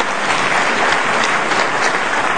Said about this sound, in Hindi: जोरदार ताली हमारे इस मेहमान के लिए।